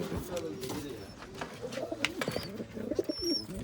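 Old line pigeons coo in low throaty murmurs amid rustling and wing flutters at close range, with a few brief higher chirps.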